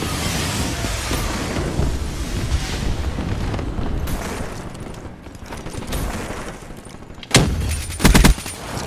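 A Rolling Thunder airstrike in a first-person shooter video game pounds as a dense, continuous rumble of explosions, loud and unbroken, ending with a few sharper blasts and crackling bursts near the end.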